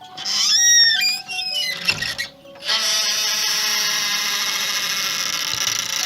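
Shrill, wavering squeaks from a moving door hinge give way to a sustained high-pitched creak that holds steadily to the end.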